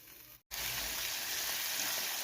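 Tomato chutney simmers in oil in a pan with a steady, close hiss and bubbling sizzle, broken only by a brief gap near the start.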